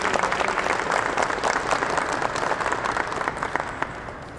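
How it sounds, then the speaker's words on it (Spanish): Sustained applause from an audience at a book presentation in San Lázaro, honouring a congresswoman: dense, steady clapping from many hands, fairly loud and continuous throughout, with no speech over it. "les pido un aplauso para la diputada María Eugenia"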